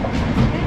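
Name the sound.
Intercity Express train passing by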